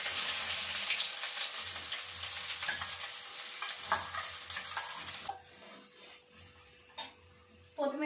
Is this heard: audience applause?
no